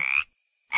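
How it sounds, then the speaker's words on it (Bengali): Frogs croak at dusk in two short, bright, rasping bursts separated by a brief quiet gap, close and fairly loud. "সন্ধ্যা হওয়ার সাথে সাথে শুরু হয়ে গেল ব্যাঙের ডাক।"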